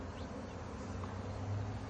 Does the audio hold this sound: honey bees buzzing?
yes